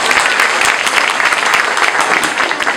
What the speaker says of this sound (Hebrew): באמת עוד פעם מחיאות כפיים למירב